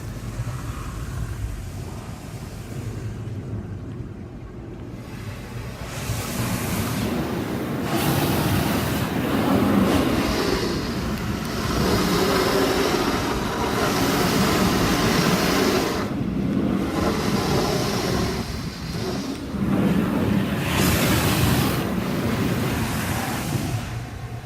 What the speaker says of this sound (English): We're going for high pound rinse.